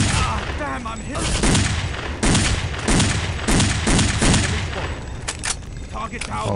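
Rapid bursts of gunfire from the Counter-Strike: Condition Zero Deleted Scenes motorcade assault mission, loud and dense, with repeated volleys and overlapping shots running throughout.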